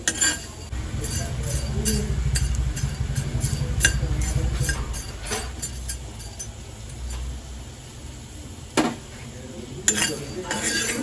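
Whole spices for masala powder are dry-roasted slowly in a pan, heard as rattling, clinking scrapes of a metal spoon against the pan in irregular bursts, with a low rumble underneath and some quiet talk.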